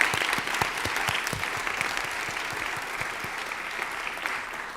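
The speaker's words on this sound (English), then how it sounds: "Let's give Evanston, Illinois," An audience applauds at a town hall meeting on the local reparations movement in Evanston, Illinois, a broad wash of steady clapping with some sharper nearby claps, continuous and moderately loud.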